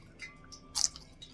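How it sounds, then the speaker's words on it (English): Homemade fried plantain chips snapped or bitten, giving a single short, sharp crunch up close, with only faint crackles around it. "You hear that crunch?"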